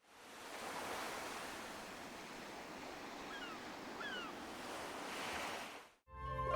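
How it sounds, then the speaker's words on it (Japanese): Ocean ambience from Animal Crossing: steady surf and wave wash with a faint high call or two, then an abrupt cut near the end. "環境音は海にしておきます"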